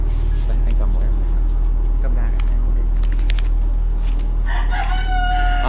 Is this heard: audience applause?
no